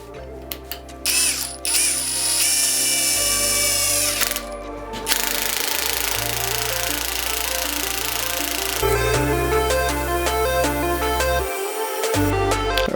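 A Dnipro-M DTD 201BC cordless impact driver runs in bursts, whirring and rattling with rapid ratchet-like clicking, stopping and restarting several times, close and loud with no talking.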